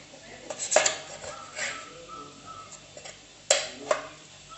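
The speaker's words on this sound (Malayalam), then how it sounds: "ഇതിൻ്റെ ബ്ലാക്ക് സൈഡൊക്കെ ഒന്ന് ഞാൻ കട്ട് ചെയ്തെടുക്കുകയാണ്" Slices of bread have their dark crusts trimmed off with a knife in a home kitchen, giving a few soft, sparse cutting scrapes and light clicks of the blade against a plate or board, close by and quiet.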